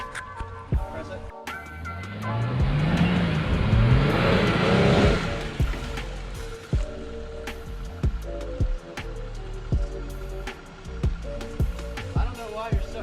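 A Jeep Gladiator Rubicon stuck off-road on an overland trip from Georgia to Florida has its engine revved hard, a rising, straining roar that builds for several seconds and then drops away to rhythmic knocks and clatter while people talk nearby.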